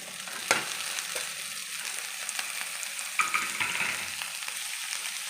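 Boiled banana stem with chickpeas is stirred into cooked masala in a pan, producing a continuous close sizzle with scattered scraping and tapping from the spoon, alone and fairly steady.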